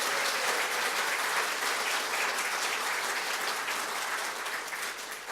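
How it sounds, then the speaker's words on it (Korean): Steady applause from a church congregation cheering a choir conductor and accompanist, a dense, even wash of many hands clapping at constant loudness with no voices, easing slightly at the very end. "크게 한번 박수로서 한번 우리 격려하겠습니다"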